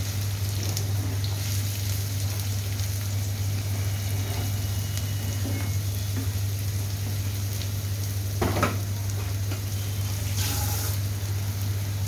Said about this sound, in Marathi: कांदा छान परतून घ्यायचा आहे